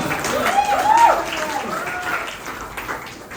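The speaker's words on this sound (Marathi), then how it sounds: "जोरदार टाळ्या वाजल्या पाहिजे नेहासाठी कम ऑन एव्हरीवन" An audience at an engagement and sangeet celebration claps for Neha, with a burst of applause mixed with cheering voices that gradually fades.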